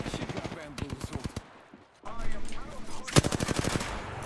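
Rapid machine-gun fire in a video game, two quick bursts of sharp evenly spaced shots separated by a short lull, close and loud, with a voice talking in between.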